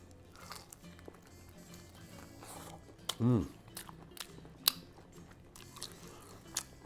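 Kam Heong prawns in curry, lemongrass and kaffir lime leaf are bitten into and chewed close to the mic, with a distinct crunchy bite in the middle followed by quieter scattered chewing clicks; faint background noise throughout.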